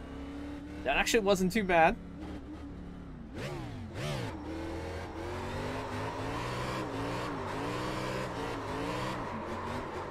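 A stock car drifting in the iRacing game, with a rapid burst of engine revs followed by a sustained, wavering engine drone as the car slides through corners, while someone talks over it.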